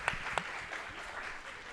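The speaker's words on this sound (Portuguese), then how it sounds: "Palmas para o Nando" An audience at a book fair applauds, a few sharp claps standing out at first before the clapping settles into a faint, soft patter.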